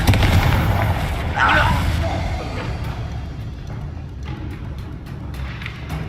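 A Confringo fire spell blasts in the video game Hogwarts Legacy, a rumbling fiery burst near the start that fades into dense, continuous game ambience with faint crackles.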